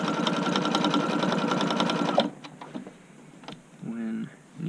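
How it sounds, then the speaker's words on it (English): A sewing machine runs close and loud in a fast, even whir while top stitching an upcycled button-up shirt, then stops abruptly halfway through, leaving quiet handling sounds and a person talking. "we're going to do a top stitch"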